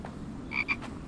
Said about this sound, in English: What is that? It's a frog.